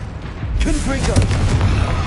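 A Confringo fire blast spell is cast in the video game Hogwarts Legacy, a sharp burst followed by a rumbling boom amid combat noise, with a voice speaking over it.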